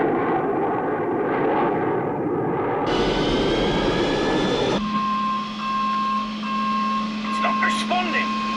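Aircraft engines roar at full power, a loud continuous rumble that rises in pitch partway through and then settles into a steady tonal hum with faint voices over it.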